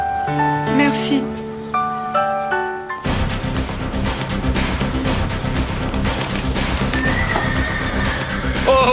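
Nervous horse neighing loudly and close, with several whinnies, snorts and clip-clopping hooves, plus some rustling and movement around it.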